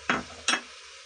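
Pumpkin, tomato and beetroot drop into a cooking pot for Mumbai-style pav bhaji, making two short, soft plopping thuds about half a second apart, fairly close, followed by quiet.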